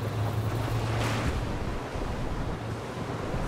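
Steady rushing water noise with a low engine hum, a vehicle churning through water in the video game Just Cause 3, continuous and fairly loud, no voices.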